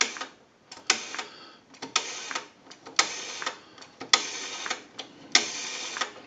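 An Automatic Electric payphone's rotary dial spins back repeatedly, each return a fast burst of crisp clicking ticks in a steady rhythm, close and fairly quiet, with no talking.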